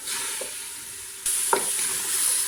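Vegetable soup seasoned with salt and turmeric is stirred in a pot, a bright steady sizzle that jumps louder midway, with a couple of soft spoon knocks.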